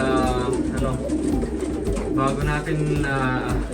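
Pigeons coo in a breeding kennel, with a chorus of low rolling calls overlapping near and further off while a voice talks over them.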